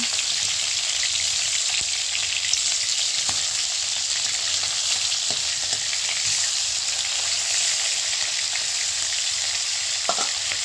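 Rohu fish pieces frying in hot oil in a kadai, giving a steady loud sizzle with a few faint clicks and spatters, alone without talk.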